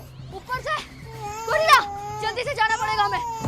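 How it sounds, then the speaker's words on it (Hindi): A child cries from upstairs with a few short, rising wails, moderately close and mixed in with ongoing talk from other voices. "ये किसके रोने की आवाज आ रही है ऊपर से?"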